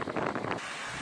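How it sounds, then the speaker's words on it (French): Hurricane Maria's gusts, nearing 200 km/h at a shuttered airport in Pointe-à-Pitre, Guadeloupe, roar as loud, dense wind buffeting the microphone, surging in pulses before settling into a steady blast. "les rafales de vent frôlent les 200 km/h"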